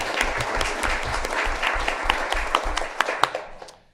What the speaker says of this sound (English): So let's please also give them a round of applause.